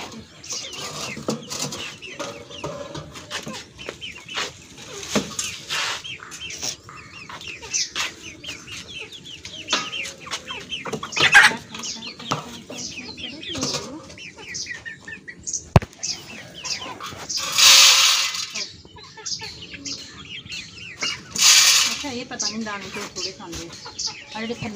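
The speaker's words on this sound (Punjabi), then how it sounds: "ਲੋ ਜੀ ਮੁਰਗੀਆਂ ਨੂੰ ਵੀ ਨਾਸ਼ਤਾ ਕਰਾ ਦਈਏ ਪਹਿਲੇ" Village hens cluck and chatter in the morning while being fed, with busy overlapping calls and a few louder squawks, close by, with occasional human voices mixed in.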